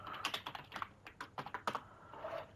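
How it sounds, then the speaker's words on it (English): Keystrokes tapping on a computer keyboard during an Overwatch match, quick irregular bursts of clicks with short pauses, close and fairly quiet, no talking. "Caster typing in match chat maybe never happens."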